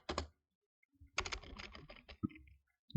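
Typing on a computer keyboard: a quick burst of key clicks, a pause, then a longer run of close, crisp keystrokes ending in a couple of separate taps.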